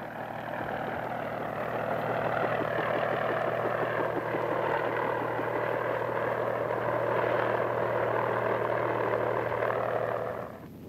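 A helicopter drones steadily with a continuous rotor and engine rumble, loud and sustained before fading slightly at the end.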